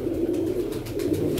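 Pigeons in a loft coo steadily in low, throaty rolling tones, close by and continuous, with no voices.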